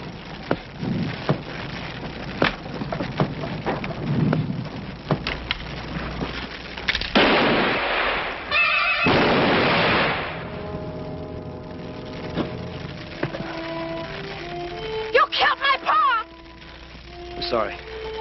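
Cannon fire in a Western TV show gives a loud blast with a burst of debris, surrounded by sharp cracks, impacts and tense music, with voices talking over parts of it.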